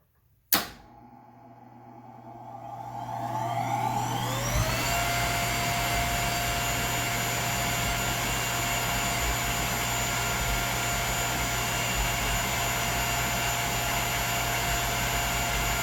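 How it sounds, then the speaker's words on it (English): A blower on a barge marine sanitation device switches on with a click, winds up over several seconds, then holds a loud, steady mechanical whine and drone, with no voices. "If I go to auto, the blower's in auto now because it's functioning off the timer."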